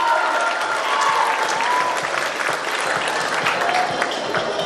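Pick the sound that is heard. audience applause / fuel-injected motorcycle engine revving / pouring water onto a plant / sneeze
audience applause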